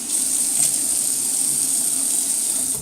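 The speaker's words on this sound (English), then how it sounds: "I just get a little bit of water on my face" Water runs steadily from a tap into a sink before a shave, a continuous close hissing stream with no talking.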